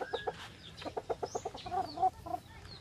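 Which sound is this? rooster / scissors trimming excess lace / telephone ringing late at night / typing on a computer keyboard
rooster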